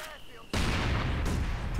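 Machine gun fire in the World War II strategy game Company of Heroes 2, a sudden loud sustained burst of rapid shots that starts after a quiet half second and runs to the end.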